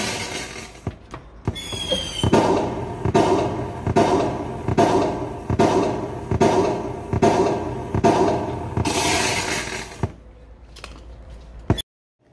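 Electric fireworks at a restaurant at Tet: a rapid series of sharp bangs and crackles, roughly one burst per second, fills the air before stopping abruptly, like small electric firecrackers.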